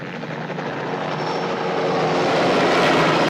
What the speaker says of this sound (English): That helicopter's flying real low.